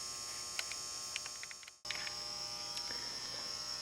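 A wire wheel scrubs a metal brush guard for a 2003 Polaris Ranger 500 6x6, a steady high electric whine and buzz with scratchy bursts. It drops out briefly partway through, then resumes at the same pitch with no talking.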